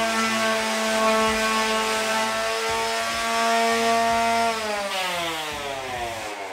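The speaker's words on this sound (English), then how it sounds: "draw a diagonal line through the two corners and cutting that with my miter saw" A loud power miter saw whines steadily as it cuts diagonally through a square of wood to make right triangles, close and continuous, the motor pitch dropping as it winds down near the end.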